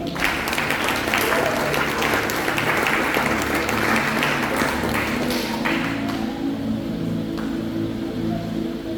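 A church congregation breaks into sustained applause and clapping, loud and continuous, with voices mixed into the crowd noise.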